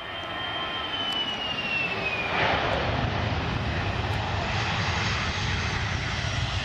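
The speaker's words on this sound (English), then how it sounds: "This plane was taking off" A loud, steady airliner engine roar fills the whole stretch, with a rising whine as the plane powers up on the runway for takeoff.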